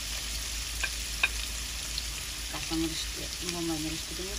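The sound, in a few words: frying with garlic added to the pan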